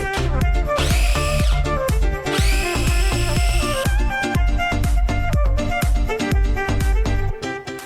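A food processor chops onion finely for a Greek pea and potato stew, its motor whirring loudly up close in repeated short pulses with choppy rhythmic bursts and no talking.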